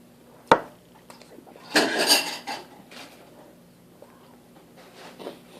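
Dishes being washed nearby: a sharp clatter of plates and cutlery, then a longer burst of scraping and clinking, followed by scattered softer clinks in a quiet room.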